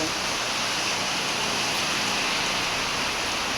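Heavy monsoon rain falls steadily outdoors in late Shraban, a dense, even hiss filling the whole stretch without a break and no voices over it.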